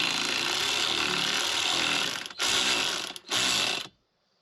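Quarter-inch ratchet fitted with an 8mm socket snugging down bolts on a no-drill Molle panel in a Ford Bronco, giving three bursts of rapid close clicking, the last two short and separated by brief pauses.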